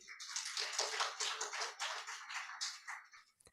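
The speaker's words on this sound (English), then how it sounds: "Clap for her, please." Workshop audience at a climate justice summer school clapping to welcome a speaker, a dense, even round of applause that holds steady then tapers off near the end.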